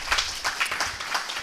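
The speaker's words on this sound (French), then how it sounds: "On peut l'applaudir, s'il vous plaît." Brief clapping from an audience at an opening session on digital services in social and medico-social institutions, fairly faint, with several overlapping claps.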